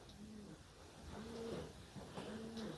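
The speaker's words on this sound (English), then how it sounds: "Pigeons, I think, were kind of roosting there." Pigeons roosting in a stone tower house give soft, repeated cooing calls, three low coos in a slow rhythm, faint and set back in a quiet space.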